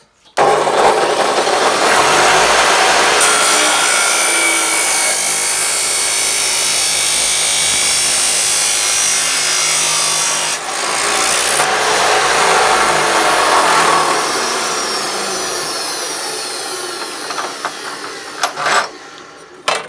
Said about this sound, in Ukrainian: Фіксуємо швидко зажимом. Ці лещата фіксують дуже добре і робимо різ.